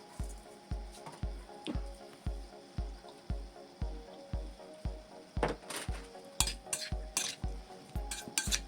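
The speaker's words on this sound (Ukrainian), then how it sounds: "Додаю 2 ложки оливкової олії і все гарно перемішуємо" A spoon scrapes and knocks around a bowl, stirring in olive oil in a steady rhythmic stir, about twice per second, with faint clinks in the background.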